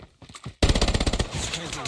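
Rapid automatic weapon fire in the mobile shooter game COD Mobile, a loud burst of closely spaced shots after a few quieter ones, ringing out close and punchy.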